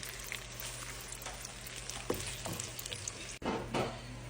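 Onions sautéing in a pan for an ampalaya dish, a steady soft sizzle and frying hiss with a few stirring clicks, heard alone and close.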